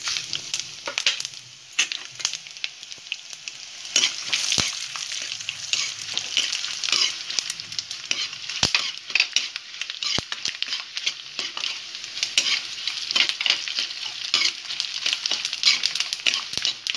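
Spices and fenugreek seeds dry roasting in a pan while being stirred, a close and steady dry sizzling crackle with scraping strokes that runs the whole time, alone and without any talk.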